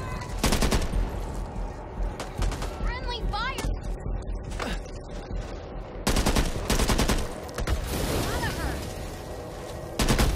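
Gunfire in the zombie shooter Back 4 Blood: loud bursts of automatic and single shots rattle in heavy clusters, with shouted voices and game effects between and over the firing.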